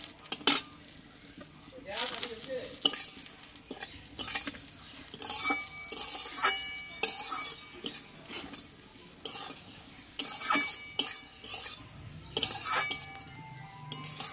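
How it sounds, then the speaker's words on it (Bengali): Semolina being stirred in a pan, with a faint sizzle beneath repeated scraping and clinking of a spoon on the metal, strokes coming in uneven close bursts with brief pauses. "সুজিটাকে এইভাবে কিন্তু নাড়াচাড়া করলে কিন্তু সুজিটা সেদ্ধ হয়ে যাবে"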